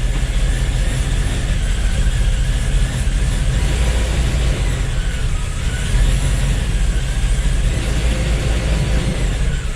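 A project car's engine idles at its first start-up with a possible exhaust leak, giving a loud, steady rumble and a continuous ticking rasp close to the microphone, with no talk.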